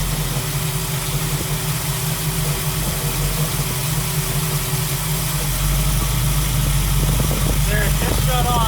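A 1967 Chevy Camaro engine idles steadily with a low droning hum, and the idle firms up and grows slightly louder partway through as the A/C compressor kicks in. A voice speaks briefly near the end.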